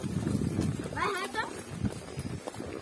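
Horse hooves clip-clop on a rural tourism horseback ride, a loose, uneven beat of steps heard under nearly constant talking voices and outdoor noise.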